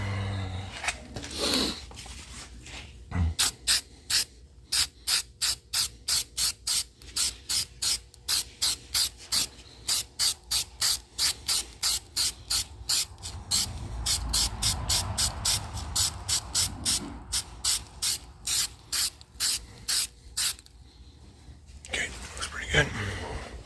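An aerosol can sprays coating onto a 1987 Jeep Cherokee in short, regular hissing bursts, dozens in a row with brief pauses, close and crisp; quiet talk comes before and after.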